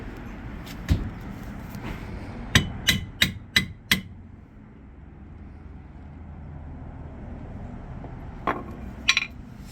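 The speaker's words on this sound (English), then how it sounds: "Take your hammer and break some of that drywall plaster around it" Sharp hammer blows crack against drywall plaster around a washing machine drain trap, a quick run of about five strikes, then scattered single hits with quiet between them.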